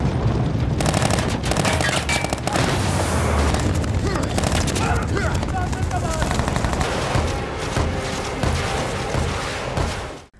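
Gunfire and explosions in a war film battle with Taliban fighters, loud rapid bursts of machine-gun fire and sharp shots mixed with booming blasts, dense and close throughout before fading out at the very end.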